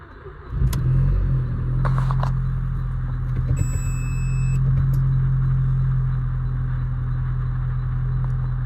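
An Audi TT Mk1 engine cold-starting up close: a short cranking catch, then a loud steady low idle that rumbles evenly with slight clatter and no talking.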